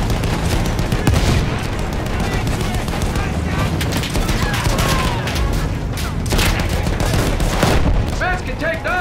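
Heavy field gun fire in a Battlefield game amid a dense, continuous din of battle, with gunfire bursts and explosions packed throughout and shouted voices over the chaos.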